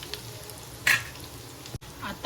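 Chicken masala with potatoes cooking in oil in a pan, a quiet continuous sizzle with a short stirring scrape and a brief cut in the sound.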